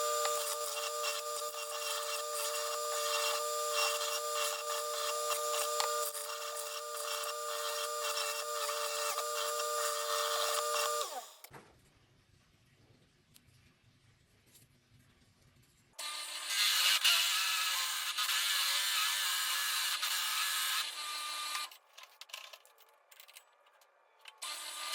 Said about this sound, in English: We're going to head over to the sander, and we're going to just roughen this up